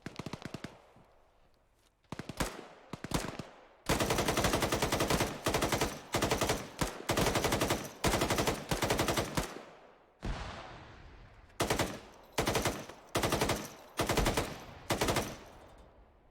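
Bursts of automatic gunfire during squad training at a range, loud and close, firing in repeated sustained strings separated by brief pauses.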